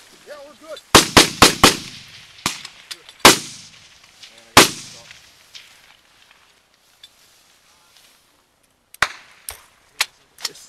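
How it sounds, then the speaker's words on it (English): Gunfire in a field firefight in 2014, with a quick burst of loud, sharp shots close by, single cracks spaced out afterward, and a few more distant-sounding shots near the end, echoing between reports. "They're still fucking shooting."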